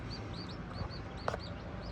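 Chicks kept in an enclosure with feed and water give repeated thin, high cheeping peeps over a steady low background hum, fairly faint, with one brief sharper call partway through.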